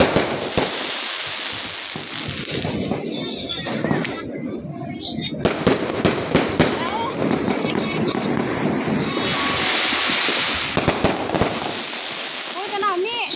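New Year fireworks burst over about thirteen seconds. Fairly loud rapid crackles and sharp bangs mix with hissing whistles, while people nearby talk and exclaim throughout.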